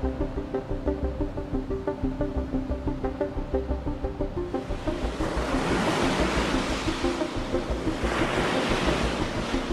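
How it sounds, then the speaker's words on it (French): Big hollow ocean waves over two metres breaking on a difficult sandbar at a Landes beach, a steady roar of surf with rhythmic pulsing that swells into a louder, broader rush partway through, with wind noise on the microphone. "plus de 2 mètres de vagues creuses et une barre super difficile à passer"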